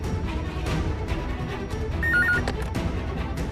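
A telephone rings during a call in a Hindi TV serial, giving a brief warbling ring partway through over steady background music and room noise.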